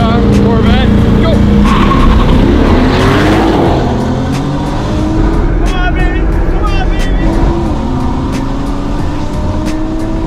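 A Nissan GTR and a Corvette launch side by side in a race, engines roaring loudly as they accelerate away with rising revs, while people shout and cheer over the noise.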